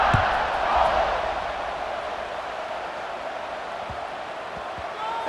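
Stadium crowd in the College Football 26 video game buzzing after a score, a steady broad roar of many voices with a few louder swells, under a commentator's voice.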